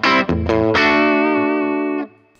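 Distorted electric guitar through a BOSS Nextone Stage amp using its 6V6 tube emulation, with an overdriven tone: a couple of quick strums, then one chord sustained loudly for about two seconds before cutting off.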